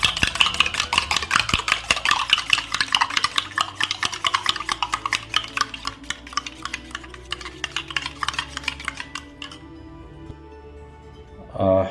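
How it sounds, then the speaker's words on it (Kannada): Eggs with salt are beaten briskly in a small bowl, giving a fast, steady run of close clicking and tapping strokes that slows and stops near the end. "ಈಗ ಮೊಟ್ಟೆನ ಚೆನ್ನಾಗಿ ಬೀಟ್ ಮಾಡ್ಕೋಬೇಕು"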